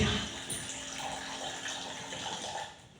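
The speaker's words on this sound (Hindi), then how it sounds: "ये हमने अभी दिखाया conquer times automatic water dispenser, where we just need to press the switch" Automatic water dispenser filling a container at home, a steady broadband rush of running water that holds for about three seconds before tapering off at the end, with no talk over it.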